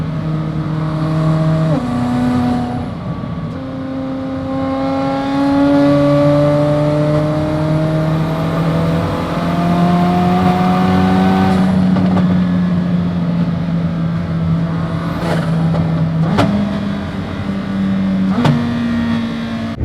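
A 1030 hp McLaren Senna accelerates hard through several gears, its loud engine pitch climbing, dropping sharply at each shift and climbing again, close by and with no talk over it.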